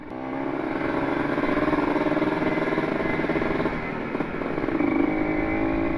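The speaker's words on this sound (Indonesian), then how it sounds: "Jadi open filter itu rasanya kayak gini ya teman-teman, ada suara yang khas gitu, ada suara krok krok krok krok krok gitu" Kawasaki Ninja RR motorcycle with an open air filter, idling and revving steadily nearby with a raspy, throbbing two-stroke note that stays loud and continuous throughout.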